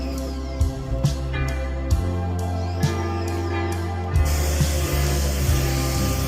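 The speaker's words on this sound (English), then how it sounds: "Once you begin pressure washing all of the concrete, you want to make sure you take your time and go in a straight line." A pressure washer sprays concrete, a continuous hissing jet over a steady engine hum, with periodic shifts and clunks as the spray is moved along in straight passes.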